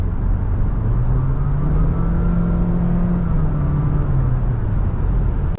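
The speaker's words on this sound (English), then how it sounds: "until you get down your accelerator pedal and you have to put up with this noise" A Honda City RS engine drones under acceleration from inside the cabin, a steady rumbling whir whose pitch rises and then falls back across several seconds with no talking.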